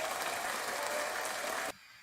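Applause fills the room at steady volume for most of the moment, then cuts off abruptly, leaving quiet background.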